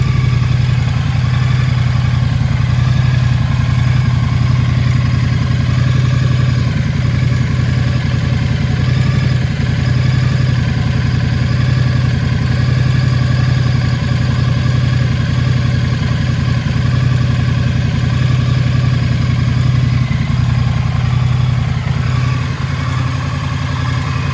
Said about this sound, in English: we ran the bike for about 2 minutes